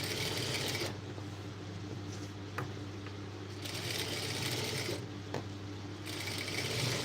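A sewing machine stitches blouse lining in quiet, rapid mechanical runs, starting and stopping in short bursts with brief pauses between them.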